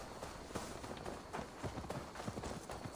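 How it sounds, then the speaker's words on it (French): Horse hooves clip-clopping in Assassin's Creed Valhalla, a steady, fairly quick rhythm of muffled thuds at moderate distance, running continuously for about three seconds with no talk over it. "Allons rendre son cheval à Magni"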